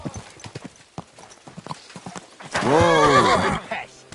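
Hooves clatter in a quick rhythm, then a loud, drawn-out horse whinny rises and falls near at hand, from the video game Kingdom Come: Deliverance II.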